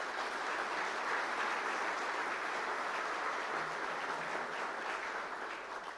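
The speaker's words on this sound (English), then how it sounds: "Please give them a round of applause for their service." A large audience at a government address claps steadily, a dense, even wash of applause from a crowd heard at some distance.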